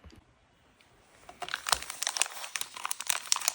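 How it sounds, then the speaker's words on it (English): Crinkling plastic wrap on a holiday card-making kit being opened by hand, a quiet pause giving way to a busy run of close, sharp rustles and crackles. "Let's open the kit and get started."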